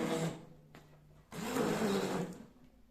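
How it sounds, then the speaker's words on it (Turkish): A food processor churns partly frozen homemade blackberry ice cream, its motor whirring in two loud bursts separated by a short pause, with the pitch shifting as the stiff mixture loads the blades. "Dondurmamızı dördüncü ve son kez tekrar rondomuzla iyice tekrar karıştırıyoruz"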